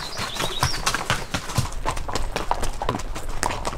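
Horse hooves clip-clop in a steady, close rhythm as a group sets out on a guided trail ride through the Sacred Valley, continuous for the whole stretch with no talk over it.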